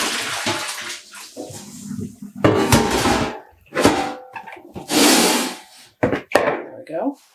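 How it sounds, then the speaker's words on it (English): Hand-dyed yarn, tied with zip ties, is pushed down into a basin of dye water at home, producing close, bursty sloshing and swishing splashes separated by short pauses. "I'm just pushing it down into the water."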